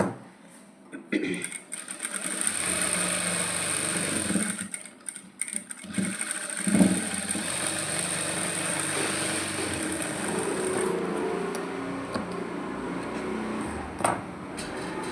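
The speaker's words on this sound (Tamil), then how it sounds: "ரெண்டு தையல் போட்டுக்கலாம்" A sewing machine stitching a coat, running in long steady whirring bursts with brief pauses between runs, close and fairly loud.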